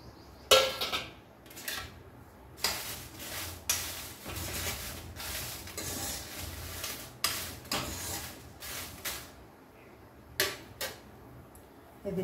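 Dried red chilies roast in about two teaspoons of oil in a pan for a tamarind-leaf chutney, with intermittent scraping and clinking of a utensil against the pan in close, irregular bursts and no talk.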